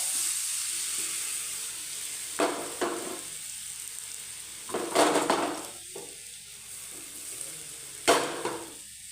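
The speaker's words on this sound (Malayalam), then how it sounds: "നെയ്യ് നല്ലോണം ചൂടായിട്ടുണ്ട് അതിലോട്ട് ആദ്യം കട്ട് ചെയ്ത് വെച്ച പഴം ചേർത്ത് കൊടുക്കാം" Sliced banana frying in hot ghee in a pan: a steady sizzle runs throughout, broken by three louder bursts of stirring and scraping, close by, with no talk.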